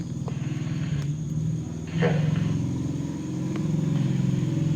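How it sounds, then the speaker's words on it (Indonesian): Motorcycle engine idling and revving nearby at an abandoned villa with a swimming pool, a steady low rumble with a louder swell midway, continuous throughout. "Suara motor di mana, lu?"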